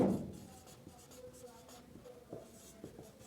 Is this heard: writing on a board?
yes